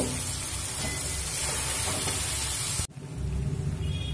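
Ground spice paste for a chicken and cauliflower curry fries in a pan with a splash of water, giving a steady close sizzle and hiss that is briefly cut off near the end and then resumes.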